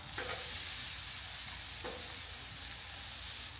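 Steaks sear on a grill with a steady, close sizzling hiss, broken by a couple of light clicks or taps. No one speaks.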